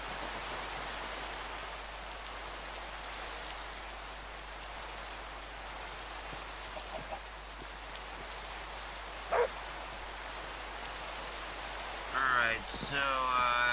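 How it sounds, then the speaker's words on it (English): Steady rain falls in Minecraft, a constant broad hiss that holds evenly throughout, with a couple of faint brief noises late on and no clear talking. "Rain."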